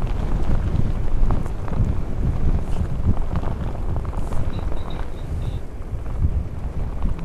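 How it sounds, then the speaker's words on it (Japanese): Strong seaside wind buffets the microphone while cycling along the coast near Shizugawa, a steady, loud rumble of gusts with no speech. "ちょうど海に出ました。今風が強い。"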